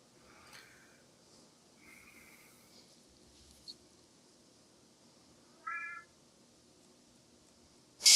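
A cat meows a few times, short faint calls spread apart against a quiet background, with a sharper louder cry near the end.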